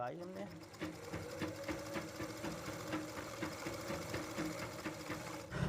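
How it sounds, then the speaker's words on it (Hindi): A sewing machine under repair stitches cloth in a steady, rapid mechanical rattle and knock, running continuously at close range with someone talking over it. "जैसे कि हम यहाँ पर सिलाई लगाते हैं"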